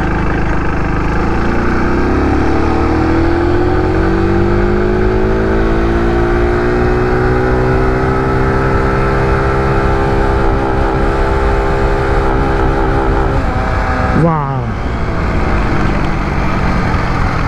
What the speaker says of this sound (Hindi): चाबी हो गई स्टार्ट, ब्रेक दबाते हैं, इसको एक बार प्रेस करते हैं और ये हो गई स्टार्ट।